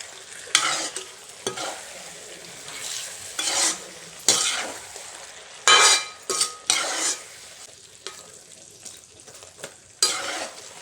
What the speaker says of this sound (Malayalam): അപ്പോൾ ഈ മസാലപ്പൊടി എല്ലാം ചേർത്തതിന് ശേഷം വീണ്ടും നന്നായിട്ട് ഇളക്കി കൊടുക്കാം